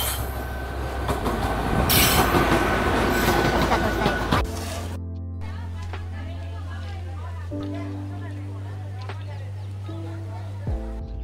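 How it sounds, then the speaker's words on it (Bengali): The Teesta Torsa Express 13142 rushes past on an Indian railway crossing, a loud roar of wagons with squealing wheels and rail clatter, then gives way to a quieter steady hum of the moving train interior. "এরপরে আমাদের সাথে ক্রসিং হতে চলেছে ডাউন তিস্তা তোস্তা এক্সপ্রেস 13142"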